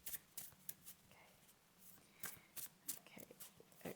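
A tarot deck shuffled by hand, soft irregular bursts of cards riffling and slapping together, close and quiet, with no one speaking.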